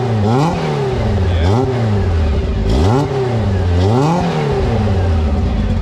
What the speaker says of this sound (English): gonna rev up the car for us